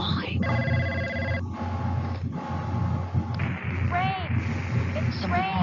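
A telephone bell rings in repeated bursts amid a noisy layered mix, with overlapping voices talking and whispering throughout and a brief pause between rings.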